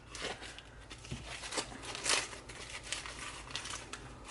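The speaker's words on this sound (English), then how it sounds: "I have 8 tomatillos, so what you want to do is peel them." Papery husks crinkle and tear as eight tomatillos are peeled by hand, a close, soft run of irregular crackling rustles with a few sharper rips.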